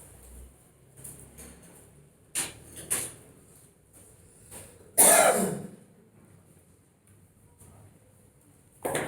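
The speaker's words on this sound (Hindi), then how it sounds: "अरे नीचे बैठ के खांस रही है।" A person in a classroom coughs and clears their throat in a few separate bursts, one sharp and loud, others fainter, over a quiet room with light creaks.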